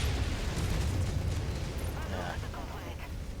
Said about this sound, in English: I do love the sound of his auto cannons